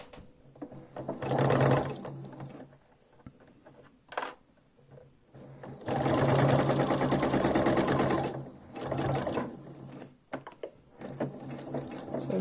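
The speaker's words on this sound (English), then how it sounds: "Now I'm going to sew along this line." A domestic sewing machine stitches a seam through pinned fabric sections, running in several bursts of rapid whirring stitches with short pauses between them, close and clear with no talking.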